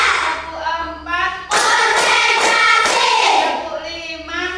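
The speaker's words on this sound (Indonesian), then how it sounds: "mari kita tepuk dulu ya" Several rounds of hands clapping together in unison, loud and close, with voices briefly audible between bursts.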